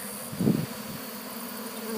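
Bees and red wasps buzz around an open-air winter feeder stocked with honey, a steady close insect drone with one louder swell as an insect passes near, then a continuous hum.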